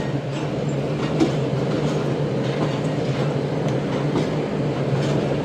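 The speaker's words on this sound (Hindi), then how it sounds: "दोपहर के 3:35 पर दोस्तों ट्रेन का अराइवल हुआ है घोटकी रेलवे स्टेशन" The Shalimar Express pulling into Ghotki railway station, a loud continuous rumble of rolling carriages with faint rhythmic wheel clatter held steady throughout.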